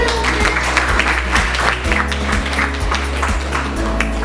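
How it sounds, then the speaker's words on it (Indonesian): A class of students applauds together on cue, a steady dense patter of many hands clapping at close range, with a low continuous hum running underneath. "Baik, tepuk tangan dulu."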